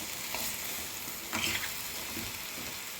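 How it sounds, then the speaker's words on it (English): Coriander leaves frying with lamb mince in a pan for mince paratha, a steady close sizzle with a brief louder stirring scrape midway and a few faint clicks, no talk. "Now I'll stir my dhania with the thing. I will let it fry with my mince."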